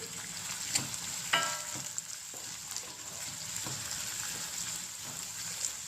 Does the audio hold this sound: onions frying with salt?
yes